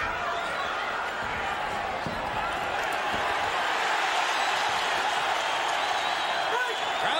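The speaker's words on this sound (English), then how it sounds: "Crowd comes alive as Barrera," Boxing crowd at the Pacquiao vs Barrera bout roars and cheers steadily throughout, a dense arena wash of voices, with a commentator's voice talking over it.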